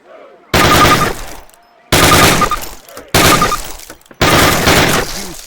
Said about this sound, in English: 10 rounds at your target, first from the hip, then aiming down the gun sight